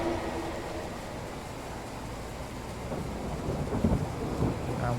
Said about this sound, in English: You can really hear the thunder now.